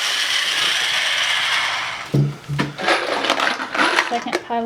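A power drill bores a pilot hole in a corner piece for apartment winterizing, a steady whine for about two seconds, then stops, followed by clattering metallic clicks and knocks close by.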